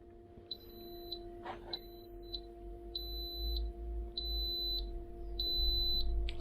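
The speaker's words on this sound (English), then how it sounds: "So that's the beep to say that it's finished." A campervan pressure cooker sounds its finished signal as a run of short, steady electronic beeps, repeating evenly at moderate volume over a low background hum.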